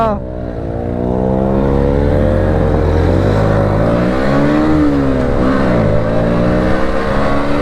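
A Bajaj Pulsar NS motorcycle with a loud exhaust is ridden close by, its engine revving and rising and falling in pitch as it accelerates, with the rumble steady and loud throughout.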